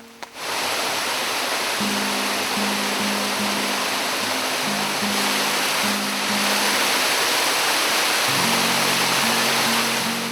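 Husaroro Waterfall in the Mabaruma area: a loud, broad, constant rush of falling water, with a faint low hum coming and going beneath it.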